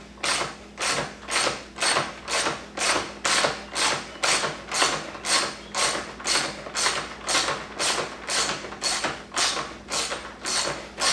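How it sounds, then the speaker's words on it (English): A hand ratchet loosens 10mm bolts on the grille of a 2018-or-later Ford F-150. It gives a steady run of crisp, close clicking strokes, evenly paced about twice a second, with no voices. "I'm going to take these four bolts off on the outside here."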